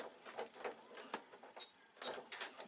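A sewing machine stitching leather-look fabric runs in short bursts of quick mechanical clatter, pausing briefly between forward and reverse back-tack stitches, close and fairly quiet.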